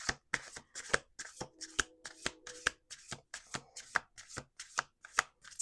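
Playing cards riffle and snap in quick bursts, roughly a dozen sharp shuffling strokes in a steady rhythm, close and clear with no talking.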